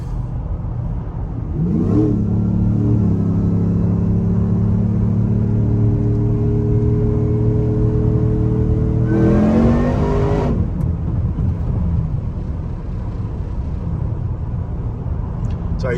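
A car engine under remote EFILive AutoCal tuning is held at wide open throttle for about seven seconds, a loud, close, rising roar with a whine. It then drops off and settles into a steady cruising rumble, with no talking.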